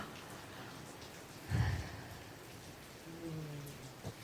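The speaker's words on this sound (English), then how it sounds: "It's raining. Oh my God, it's the first rain of the season." Light rain falling in the first rain of the season, a soft steady patter heard faintly throughout, with one brief louder thump partway through and a few faint tonal sounds near the end.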